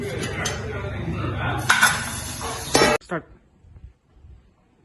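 A plate is set over a pot as a lid while carrot payasa cooks in a home kitchen, giving a couple of sharp metallic clinks and a scrape, then quiet, with someone talking over the first part.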